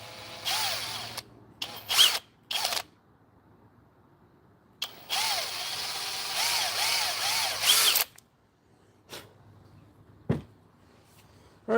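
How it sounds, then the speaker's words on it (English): A power drill bores out a dowel hole in wood in short bursts, each whining spin rising and falling in pitch and separated by quiet pauses, close and loud. "Drill this one out just a little bit more."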